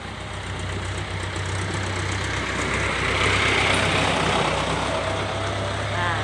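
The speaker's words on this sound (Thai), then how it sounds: "มาดูแม่กำไรจะกลัวรถไถไหมคะ" Farm tractor engine idling close by beside an elephant outdoors, a steady low rumble with a rough mechanical texture that swells slightly midway and holds continuously throughout.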